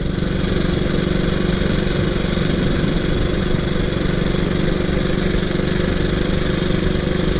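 A 1926 HRD Model 80 motorcycle engine of about 20 horsepower runs loud and close in a continuous, steady rasping drone as the bike rides off, with no voices.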